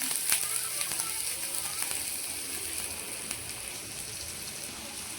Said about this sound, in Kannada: ಬಾಣಲೆಗೆ ಎಣ್ಣೆ ಹಾಕ್ಕೊಂಡಿದ್ದೇನೆ. ಇವಾಗ ಕಾಯಿ ತುರಿಯನ್ನು ಫ್ರೈ ಮಾಡ್ಕೊಳ್ಳೋಣ. ಮೊದಲಿಗೆ ಸ್ವಲ್ಪ ಆನಿಯನ್ ಹಾಕ್ಕೊಳ್ತಿದ್ದೇನೆ.